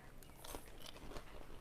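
Crispy fried snacks made of gram flour, ginger and water being bitten and chewed up close, with a quiet run of crunches and crackles.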